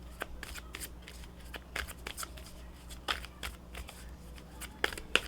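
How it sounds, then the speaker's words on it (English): Playing cards being shuffled up close and quietly, a run of soft riffling flicks and snaps at an uneven pace. "And if you don't like the shuffling, my apologies"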